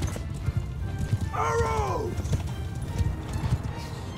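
Horse hooves clip-clop in quick rhythm during a cavalry battle in Mount & Blade II: Bannerlord, with a loud whinny rising midway over the steady galloping and background battle noise.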